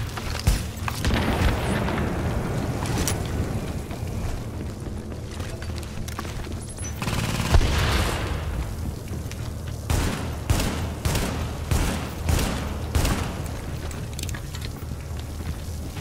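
Sustained turret gunfire and booming blasts in the video game Tom Clancy's The Division, a dense continuous barrage with repeated heavy thuds, loud throughout with no talking.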